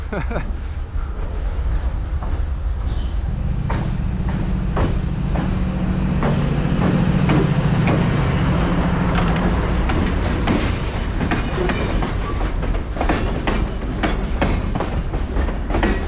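A CSX freight train rumbles steadily across a bridge in Manchester, New Hampshire, heavy wheels clattering and clanking over rails for a long stretch, with a low droning hum underneath.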